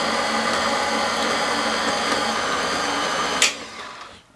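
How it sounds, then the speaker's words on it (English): A loud, steady blender whir runs for several seconds as it blends mixed nuts, then cuts off abruptly and spins down into quiet. "add it to the blender. And then blend it up a little bit"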